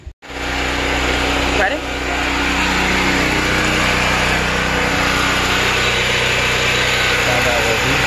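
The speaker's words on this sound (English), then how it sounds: "Let's go generator, rip it up, and test the volts." A portable generator starts with a sudden roar and then runs loud and steady at close range, its engine drone filling the air while a person speaks briefly over it.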